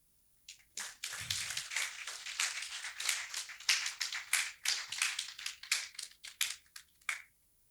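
Clapping from a small workshop audience after a health talk, sparse individual claps close by, starting after a short pause and tapering off unevenly toward the end.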